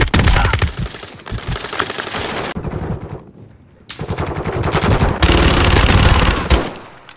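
Machine gun fire in Modern Warfare 2, loud rapid automatic bursts close up, broken by a short pause and then resuming in long sustained strings.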